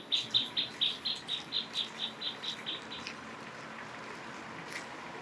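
A peacock perched on a house roof in a small street of Mirissa town, Sri Lanka, giving a quick series of about a dozen sharp, evenly spaced calls that fade over three seconds against faint outdoor ambience.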